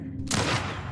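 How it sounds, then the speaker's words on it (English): A nail bomb explodes in The Last of Us Part I, a sudden loud burst with a crackling, rattling tail that fades over less than a second. "That's one way to walk into my nail bomb."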